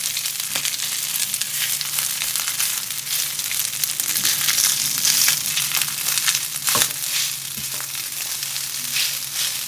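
Leftover rice being stir-fried in a pan, making a steady, close, continuous sizzle and crackle with scraping stirs throughout, no talking.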